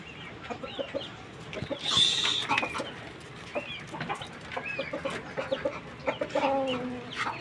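A panting hen clucks repeatedly nearby in short, uneven bursts, with other birds chirping faintly in the background.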